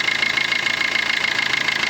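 A 2012 Maruti Suzuki Ritz VDI diesel engine idles with a steady, even clatter and hum, close and loud, with no voices.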